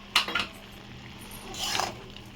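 Metal utensils scrape and clink against a pan in two short bursts of stirring pumpkin stalks with sugar and roasted cumin, fairly close, with quiet kitchen hum between them.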